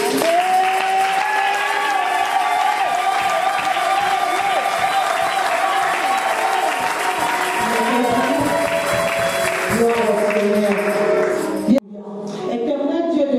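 Church congregation at a women's gathering applauding and cheering at length, dense sustained clapping with shouts and music beneath, ending abruptly before a voice speaks.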